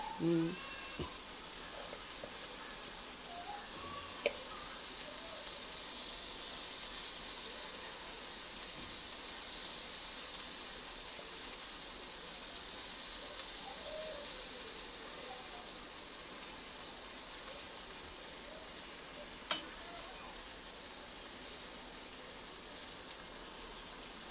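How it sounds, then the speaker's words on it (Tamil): Dry fish frying in oil in a pan on a stove at low heat, a faint steady hiss and sizzle running throughout with occasional small clicks, and a voice speaking over it. "பேனில் எண்ணெய் ஊற்றி வச்சு ஃபிஷ் ஃப்ரை பண்ணுற மாதிரி தான் இது."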